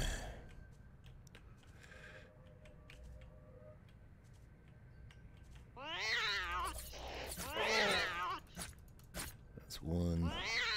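Cats meow and yowl in a video game, several drawn-out wavering cries near the end, mixed with quieter game sounds and someone talking.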